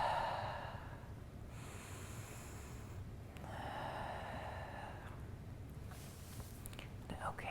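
Deep, slow breathing during a beginner pilates exercise, a few soft airy inhales and long exhales, quiet and close with a faint room hiss between breaths.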